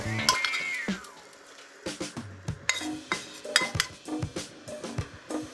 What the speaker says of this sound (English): Scrambled eggs onto the plate.